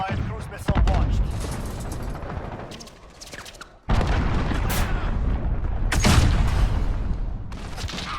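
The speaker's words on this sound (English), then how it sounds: "Allied cruise missile launched." Cruise missile strike in Modern Warfare brings heavy booming explosions over a steady rumble of gunfire, with a loud blast near four seconds and more impacts after, lightly under a player's voice.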